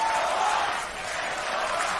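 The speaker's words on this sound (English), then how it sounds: "You hear the crowd very, very happy here" A large esports crowd cheers and applauds steadily, distant and moderately loud, during a Dota 2 International 2022 lower-bracket match.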